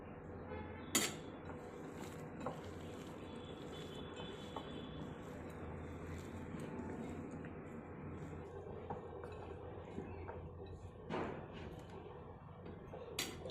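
A spoon stirs a cooled mawa and jaggery modak mixture with dry fruits and cardamom powder in a pan, giving soft, steady scraping with a few sharp metallic clinks against the vessel.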